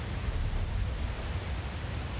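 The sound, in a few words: waterfall in video game The Elder Scrolls Online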